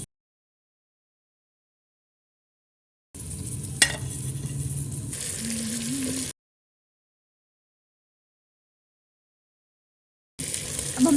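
Garlic and ginger sizzling in a pan for chicken curry, a steady frying hiss in two short bursts with a brief stir or scrape between, separated by silence.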